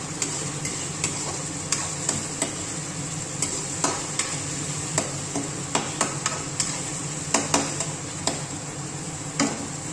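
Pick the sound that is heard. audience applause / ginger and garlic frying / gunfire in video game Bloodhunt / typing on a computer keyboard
ginger and garlic frying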